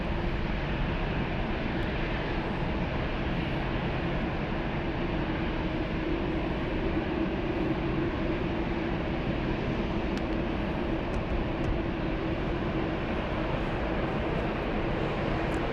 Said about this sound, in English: Big 747 taxiing to the runway. Lufthansa 506 to Sao Paulo, taxiing to the runway.